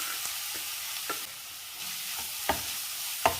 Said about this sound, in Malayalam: അതിലേക്ക് ഗ്രേറ്റ് ചെയ്ത് വെച്ചിരിക്കുന്ന ക്യാരറ്റ് ചേർക്കാം